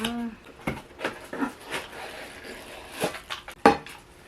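Light metallic clinks and knocks as a stainless steel steamer pot and its parts are handled, scattered taps with one sharper ring near the end, under occasional talk.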